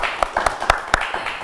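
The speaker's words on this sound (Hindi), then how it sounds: "लेकिन तालियां तुम लोग बजा सकते हो।" A small studio audience on a morning talk show gives a few sparse, distinct claps, about five separate hand strikes spaced irregularly over a quiet room.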